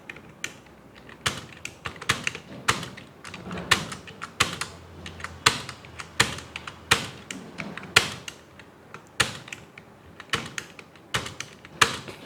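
Fingers typing steadily on a computer keyboard during a Hindi typing lesson, crisp close key clicks in quick irregular bursts with short pauses, no talking.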